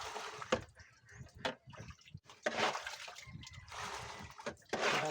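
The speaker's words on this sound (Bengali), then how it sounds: "কাঁকড়াগুলো দেখুন ভিতরে জলগুলো ফেলে দেওয়া হচ্ছে।" Water pours and splashes in uneven bursts as it is tipped out from among freshly caught river crabs on a boat, with short trickles and sloshes between louder gushes and a voice briefly heard.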